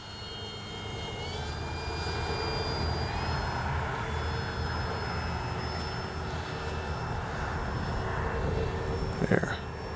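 A Kavan Pilatus PC-6 Porter RC plane flies in a fairly strong wind, its steady engine drone holding at moderate distance across the whole stretch, with a shifting whine overhead and a brief knock near the end.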